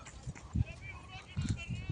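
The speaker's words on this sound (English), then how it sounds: "See camels and horse carriages." Horse carriages near the pyramids in Cairo, with intermittent hoof clip-clops under people talking at an outdoor tourist site.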